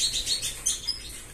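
Pet birds chirp and twitter in their cage, a steady run of light, high tweets layered over one another at moderate volume, with no voices.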